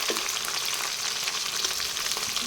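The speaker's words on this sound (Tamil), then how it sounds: "வெங்காயம் போட்டுக்கிறேன் சேர்த்துட்டு நல்லா மிக்ஸ் பண்ணிக்கலாம்" Onion frying and being mixed in a pan with dried red chillies for tamarind rice, a steady, close, loud sizzle with faint stirring scrapes throughout and no voices.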